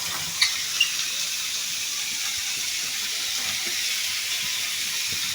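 Bitter gourd frying in a pan, a steady, even sizzle and hiss with a couple of faint clicks near the start.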